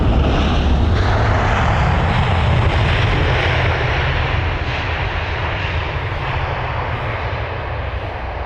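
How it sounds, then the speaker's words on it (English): An American Airlines Boeing 777-200ER jet arrives at London Heathrow Airport with a loud, steady engine roar that fills the whole stretch and fades slightly toward the end, with no voices over it. "we've got another arrival. It's going to be an American Airlines jet this time"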